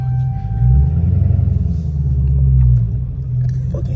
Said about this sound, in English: Hellcat with no air intake